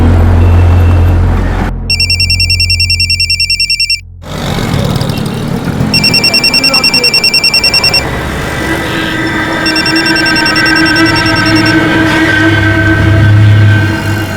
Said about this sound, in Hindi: सर दरवाजे पे ताला है, लेकिन फोन की रिंग घर के अंदर बज रही है।